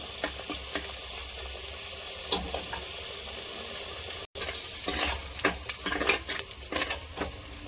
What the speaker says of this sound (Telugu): ఆయిల్పై మంచిగా పచ్చివాసన వేదాకా వేసుకోవాలి నూనెలో